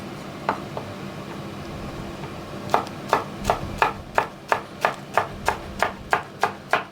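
A knife cuts peppers on a cutting board: two early taps, then a steady run of about a dozen crisp, evenly spaced chops close by.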